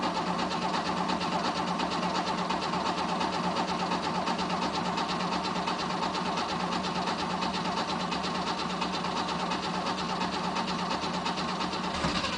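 An old 1967 Mercedes car engine runs steadily after a cold start, a continuous, even mechanical drone at moderate volume with no talk over it.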